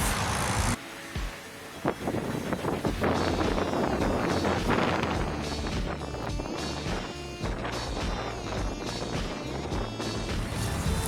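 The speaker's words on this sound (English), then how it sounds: "we're getting a nice lake breeze" Lake breeze buffeting an outdoor microphone close to a lake, a loud rumbling wind roar with gusty surges that dips briefly near the start before returning strongly, with no speech.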